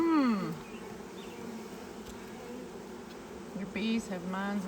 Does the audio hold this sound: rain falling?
no